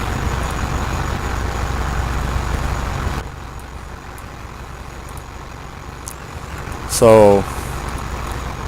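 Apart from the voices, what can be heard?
ladder fire truck engine and air brakes in EmergeNYC video game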